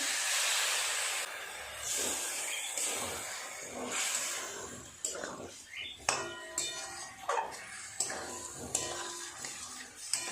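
Water added to a pan of potatoes and spices being fried for a fish curry, with a loud steady sizzle at first that settles into softer bubbling broken by sharp clinks of a spoon against the pan.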